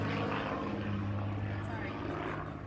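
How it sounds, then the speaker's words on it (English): A propeller airplane drones steadily overhead during an outdoor officials' briefing after a tornado, a loud continuous engine hum filling the whole stretch with no clear talk over it. "I'll wait for the airplane."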